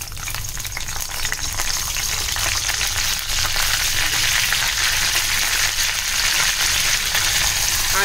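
Curry leaves crackle and sizzle in very hot oil at the start of a Malvani-spiced prawn and potato dish, a loud, steady frying hiss that holds throughout without pause.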